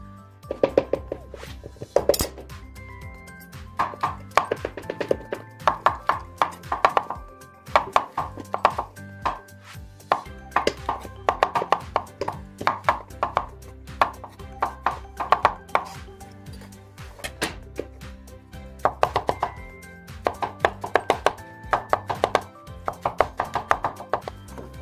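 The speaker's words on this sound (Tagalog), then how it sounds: "Nagayat-gayat ko ng mushroom." Steady knife chopping of mushrooms on a cutting board in a home kitchen, a rapid series of close, sharp taps in bursts, alone with no talk.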